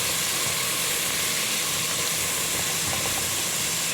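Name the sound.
sautéing garlic and onion in a pan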